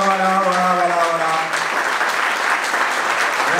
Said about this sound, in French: On vous demande de vous l'applaudir très fort.